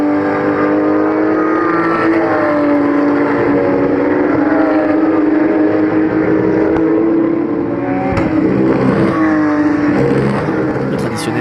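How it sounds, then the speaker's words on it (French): Porsche 911 race cars running on a circuit during a pit-stop phase, a continuous loud engine drone with shifting harmonic pitch throughout, a few sharper bursts near the end. "Thierry Serra s'engouffre dans la pit lane, suivi de près par Georges Canas sur la Porsche numéro 28"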